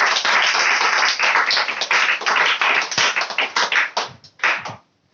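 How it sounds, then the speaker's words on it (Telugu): A congregation claps hands loudly in worship, a dense continuous burst of many palms that thins into a few scattered claps before falling silent near the end. "గట్టిగా ప్రభు నామానికి చప్పట్లు కొడతాం."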